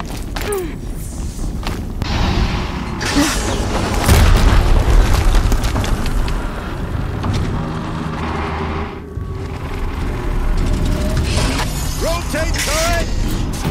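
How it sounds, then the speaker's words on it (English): Explosions in the video game Horizon Zero Dawn sound as heavy booming blasts within a dense, continuous wash of game combat and mechanical noise, with a stronger burst partway through. "Another explosion."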